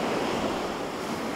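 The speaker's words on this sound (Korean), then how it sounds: "쉴 새 없이 배천을 때리는 파도를 뚫고 더 달리자" Heavy sea surf pounds steadily against an Aegis destroyer of the Korean navy in rough winter weather near Dokdo, a dense continuous roar of breaking waves and wind with no pauses.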